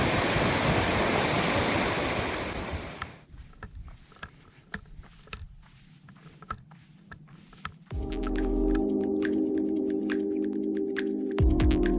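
A river fed by snow and glacier melt off Mount Hood rushes loudly for about three seconds. It then cuts to near quiet with scattered clicks, and a steady low hum follows.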